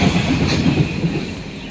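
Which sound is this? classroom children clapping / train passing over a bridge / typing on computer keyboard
train passing over a bridge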